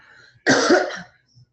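A single loud, close cough, short and harsh, with quiet murmuring before it.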